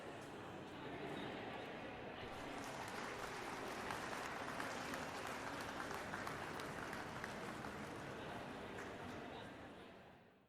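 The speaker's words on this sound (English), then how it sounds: "let's give this class a nice round of applause" A class audience breaks into sustained applause, a dense crackle of many hands clapping together that holds steady at full strength for about nine seconds before tapering off at the end.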